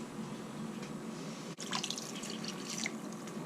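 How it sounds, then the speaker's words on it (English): Running water pours steadily from a tap into a cooking pot of simmering goat stew, a continuous close splashing hiss with a brief break partway through. "I actually might add a little bit of water as well"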